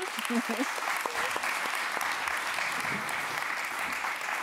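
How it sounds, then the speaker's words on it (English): A talk audience gives Stéphane a round of applause, a full, even burst of clapping sustained for several seconds, with a brief voice over it at the start. "Round of applause for Stéphane."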